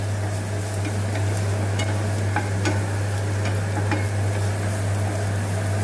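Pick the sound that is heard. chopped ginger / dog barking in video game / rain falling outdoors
chopped ginger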